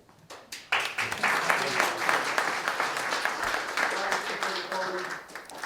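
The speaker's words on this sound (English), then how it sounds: "because Chris got a lot of applause" An audience at a chamber of commerce meet-the-mayor event claps, starting with a few scattered claps and swelling into steady applause that gradually thins toward the end.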